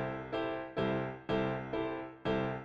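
Boogie woogie piano exercise in a swing rhythm, five accented chord strikes in a lilting long-short pattern, each ringing and decaying before the next, played clearly and alone.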